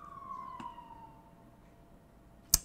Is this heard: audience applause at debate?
no